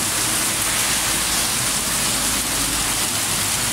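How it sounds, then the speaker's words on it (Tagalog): Heavy rain pours steadily in a dense, loud, unbroken hiss of drops hitting surfaces, close by and constant, with no voices. "lumakas na ng ulan"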